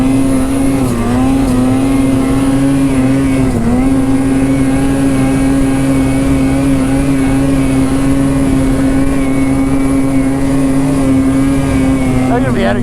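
Snowmobile engine droning steadily at high revs while blasting up a mogul trail, a loud, continuous near whine with small pitch dips, a rider's voice mixed in.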